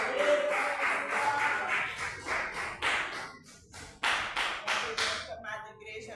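A church congregation claps together in a steady rhythm of sharp, fairly close hand claps, with a brief lull midway and voices mixed in.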